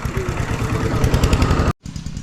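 A loud tractor engine chugs steadily with a rough, rattling rhythm up close, then cuts out abruptly before restarting briefly.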